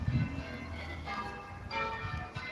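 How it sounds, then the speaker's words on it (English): Church bells of a village church ring out at night, heard faintly and somewhat distant with sustained tonal peals blending over low background rumble. "my church is ringing the bells tonight."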